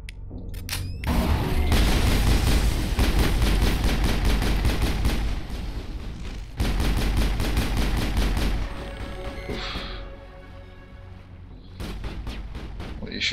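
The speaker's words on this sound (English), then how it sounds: "Shooting at more geffies." Sustained bursts of automatic gunfire at geth enemies in the video game Mass Effect, loud and dense with rapid repeated shots, brief pauses and a second heavy volley, with faint in-game effects between.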